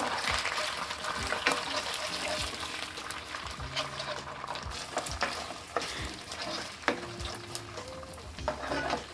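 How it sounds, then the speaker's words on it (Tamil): Ginger garlic paste fries with curry leaves on a medium flame, a steady close sizzle with bursts of crackling and stirring scrapes of a utensil against the pan throughout. "மீடியம் ஃப்ளேமில் நல்லா அந்த பச்சை வாசனை போகிற வரைக்கும் நல்லா வந்து நம்ம ஃப்ரை பண்ணி விடலாம்."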